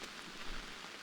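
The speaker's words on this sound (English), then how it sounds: "And it's raining." Steady rain falling in the Outbound video game, a dense, even hiss of drops heard alone for a brief moment.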